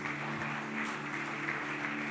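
Brief audience applause during a church sermon, soft and fairly distant clapping with a low sustained keyboard tone beneath.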